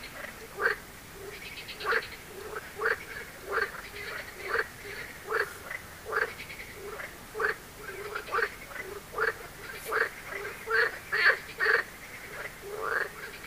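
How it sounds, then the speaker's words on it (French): A chorus of frogs croaking at 11 at night beside a carp-fishing pond at the Étang de la Reyberie, with steady, repeated pulsed calls, one after another, and more voices overlapping toward the end. "Il y a de la grenouille, hein."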